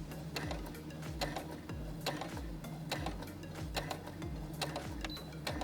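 Sewing machine sewing a seam on a cotton face mask, producing a quiet, close, rhythmic mechanical clatter with regular thumping needle strokes and ticking gears that run steadily throughout.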